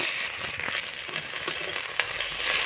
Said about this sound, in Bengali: নুন হলুদ দিয়ে দিয়েছি বেশ সুন্দর করে ভেজে নেব